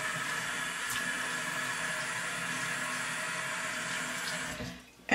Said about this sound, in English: I'm just gonna put some water on my lips.